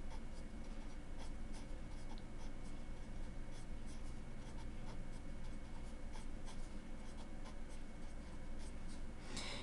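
Math written out by hand, a steady faint scratch of pen or pencil strokes on paper, close and continuous with no talk.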